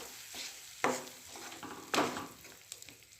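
A spoon stirring blended tomato and salt in a pan for pizza sauce, a soft bubbling sizzle with two distinct scraping strokes and a few light clicks, quiet and close.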